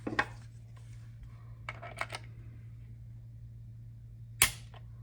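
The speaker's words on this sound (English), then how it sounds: "we're going to use a force gauge to measure the pounds of force required for the trigger" A Glock 43 pistol trigger pulled against a force gauge gives a few faint, sharp mechanical clicks in a quiet room, with one louder snap near the end.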